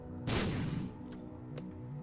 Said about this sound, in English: I will use a bomb against you, boy.